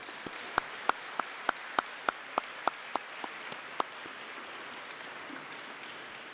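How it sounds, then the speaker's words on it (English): Faint, evenly spaced claps, about a dozen in a steady rhythm, from an audience thanking faculty at a middle school closing ceremony, fading out after a few seconds against a quiet room. "please show our incredible faculty your thanks with a round of applause."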